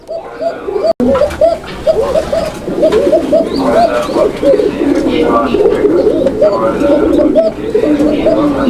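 Many Lahori, Sirazi and Koka pigeons coo in overlapping throaty burbles, loud and close, while people talk in the background.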